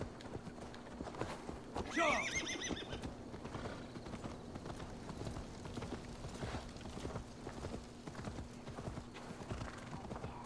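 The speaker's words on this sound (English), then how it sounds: "Come on, horse." A horse in the Viking-era video game Assassin's Creed Valhalla trots with steady hoof clip-clops and lets out a loud whinny early on, under ambient game sounds.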